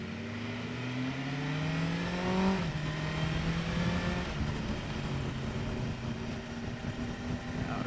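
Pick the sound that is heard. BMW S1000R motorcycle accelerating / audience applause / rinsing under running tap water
BMW S1000R motorcycle accelerating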